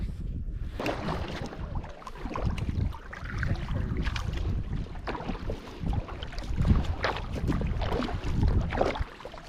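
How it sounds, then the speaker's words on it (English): A canoe is paddled along a river in the mountains near the Dalton Highway during the Yukon 1000 race, with rough, gusty wind buffeting the microphone over the water and low, uneven paddle splashes. "we're currently paddling back into the mountains on the last stretch of river to the Dalton Highway"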